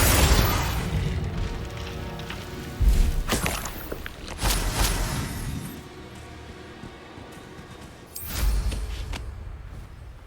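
Bombarda and Confringo spells explode in Hogwarts Legacy combat, with several heavy booms and thuds landing at irregular intervals over a continuous rumbling wash of battle noise and scattered impacts.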